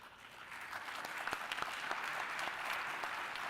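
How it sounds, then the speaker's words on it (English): Applause from a forum audience for a panel, a fairly faint, dense patter of many hands clapping at a distance, steady throughout without voices. "well-deserved round of applause."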